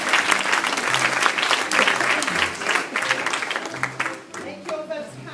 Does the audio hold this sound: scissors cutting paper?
no